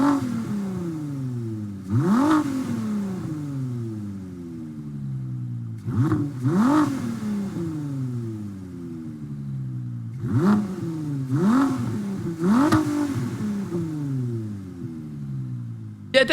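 Genesis X Gran Berlinetta VGT concept car in Gran Turismo 7 revs in four loud bursts, each engine note climbing then falling off while a steady idle drone runs beneath.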